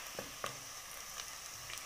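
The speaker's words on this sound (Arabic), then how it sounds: "هنقطع بصلة ونسيبها تحمر، لازم البصلة تحمر قوي" Chopped onion frying in a pan for Damietta-style kebab, a faint steady sizzle with a few soft crackles and pops, no voices.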